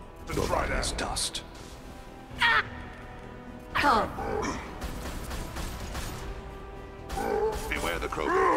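Crows caw from a Mass Effect 2 game scene, several loud harsh caws in scattered bursts. Low game ambience and mechanical creaks sit under them.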